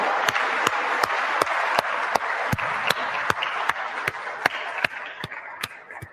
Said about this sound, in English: I would like myself right now to pause and to give a hand of applause to a man who's been a leader